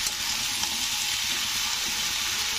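Bottle gourd stir-fries in a pan with salt and spices, giving a soft, steady sizzle and hiss at low volume with no voices.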